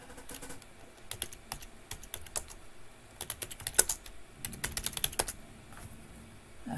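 Quick bursts of typing on a computer keyboard during an online search, irregular clusters of clicky keystrokes close up with short pauses between runs, no talking.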